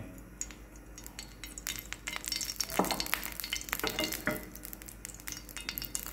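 White cooking oil hits a hot pan for chicken cafreal, a soft crackling sizzle that swells and thickens as it spreads, mixed with a few light metallic clinks of utensils close by.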